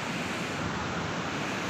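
Rushing stream water with a strong current on a windy hilltop, a steady broadband wash that stays constant and fairly faint, with wind buffeting the microphone and no voices.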